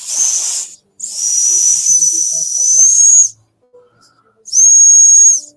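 A Battlbox survival whistle blown hard in three loud, shrill, steady blasts, the middle one longest, with brief pauses between them and a faint breathy hiss.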